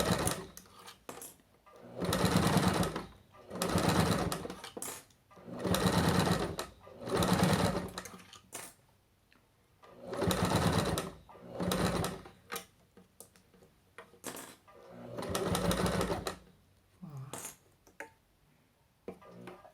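A sewing machine stitches fabric for a trapezoid bread basket in bursts of rapid mechanical whirring, about eight runs of one to two seconds each, separated by short pauses.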